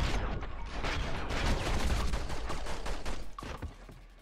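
Dense video-game gunfire from The Matrix: Path of Neo on PS2, rapid overlapping shots and bursts in a continuous loud barrage for several seconds, tapering slightly at the end.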